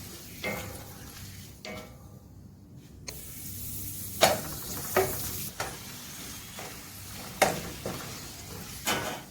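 Papadams sizzle and crackle in hot coconut oil, with occasional sharp clinks and scrapes of a utensil stirring the pan, fairly quiet and close.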